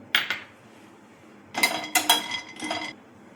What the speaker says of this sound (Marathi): बदाम भाजून घेऊ